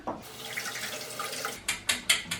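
Almonds are rinsed under a running kitchen tap through the strainer of an orange juicer, with a continuous splashing stream followed by four sharp, rhythmic bursts of water near the end.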